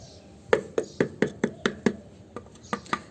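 Repeated sharp knocks on an upside-down terracotta pot to loosen dahlia bulbs: about a dozen crisp, hollow taps in a quick, uneven rhythm, close and fairly loud, with no talking.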